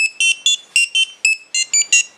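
An Arduino electronic buzzer beeps out a quick, bright melody of short tones, the Mario Bros theme, loud and close with no talking.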